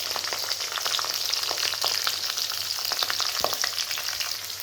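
Onions dropped into hot oil with green chillies, a loud, busy, close frying crackle with dense popping and stirring sounds, no voices.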